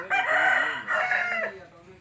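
A rooster of an ornamental Thai breed crows loudly and close by in two long harmonic phrases, the second call trailing off, with no talking over it.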